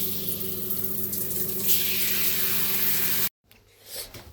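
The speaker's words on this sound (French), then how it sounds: "J'ai fini de prendre ma douche." Shower water runs in a steady, loud hiss that swells slightly, then cuts off abruptly, leaving quiet room sound with a faint soft rustle.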